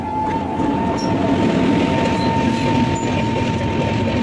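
A train passes close by, heard on its own as a steady, loud rolling rumble of wagons on the rails with a faint sustained wheel whine, with no voices over it.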